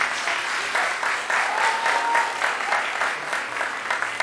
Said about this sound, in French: Vous pouvez applaudir entre les interventions ou pas, c'est selon votre enthousiasme ou non.